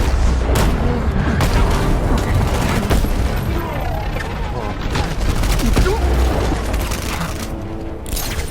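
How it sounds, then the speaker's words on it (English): Rapid sentry gun fire from Batman: Arkham Knight crackles loud and dense throughout, with booms and mechanical clatter in a busy combat mix and faint voices underneath. "Sentry gun deployed."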